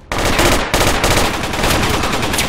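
Loud, sustained automatic gunfire in a shooter video game during a mosque breach, a dense continuous volley of rapid shots with a brief break partway through.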